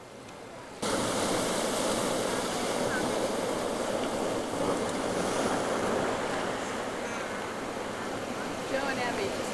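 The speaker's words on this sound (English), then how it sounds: "there's some big waves out here too" Big ocean waves roll and wash continuously off Fernandina Island in the Galapagos, a loud, steady broadband surf roar mixed with wind buffeting the microphone, starting abruptly after a quieter moment.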